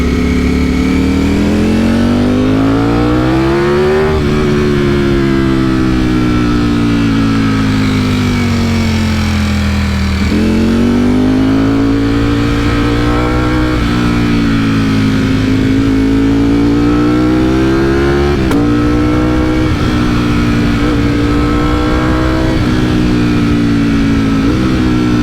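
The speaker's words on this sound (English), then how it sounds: "This StreetFighter V4S sounds incredible" A Ducati StreetFighter V4S motorcycle engine revs loudly and continuously on twisty mountain roads, its pitch climbing and dropping through repeated gear changes, close and without talk.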